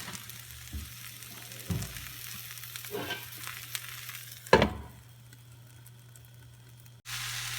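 Two handfuls of spinach wilting under a lid in a hot pan, a soft steady sizzle with a low hum, broken by several clanks and scrapes of the lid and utensil before the sizzle swells again at the end.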